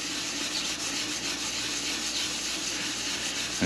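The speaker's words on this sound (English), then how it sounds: "it's a smaller piece of sandpaper, so I want to just try to go in circles if I can here" Hand lapping with a small piece of 220 grit sandpaper worked in circles on a homemade metal surface gauge, a steady continuous rubbing and scraping held close and fairly loud for the whole stretch, with no pauses.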